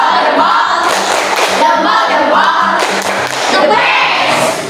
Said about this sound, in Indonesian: Sekali lagi, tepuk jempol.